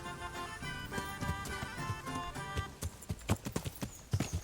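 Horse hooves clip-clop over rough woodland terrain in Kingdom Come: Deliverance, a steady trotting rhythm of sharp, close strikes layered over game music and ambience, with no talking.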